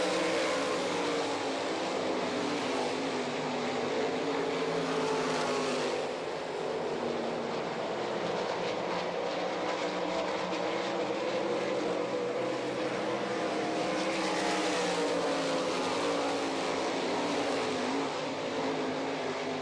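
410 sprint cars race on a dirt track, engines roaring continuously and loudly as the pack circulates, with the pitch swelling and fading as cars pass.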